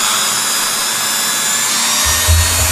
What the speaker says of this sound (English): There is Dremel multi-tool and opening and starting bits, and I start in low speed